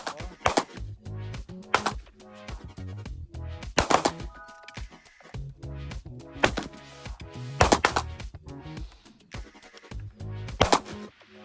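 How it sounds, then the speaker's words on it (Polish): A black powder separate-loading gun fires a series of sharp, loud reports spaced a second or two apart, each with a short ringing tail, with quiet gaps between the shots. "Broń czarnoprochowa, rozdzielnego ładowania"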